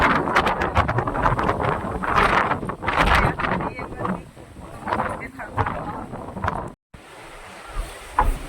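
Strong storm wind roars and buffets the microphone in heavy, gusty bursts, blowing up dust, with voices faintly mixed underneath.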